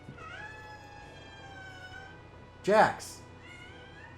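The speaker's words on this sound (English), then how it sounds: "That was a pretty loud meow." A house cat lets out one loud, drawn-out meow close by, following a brief spoken name under a faint, steady hum.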